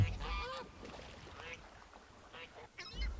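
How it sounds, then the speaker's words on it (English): Geese and ducks calling at a farm or pond, a few short nasal honks and quacks in separate bursts amid light background noise and faint voices. "The geese are funny, too."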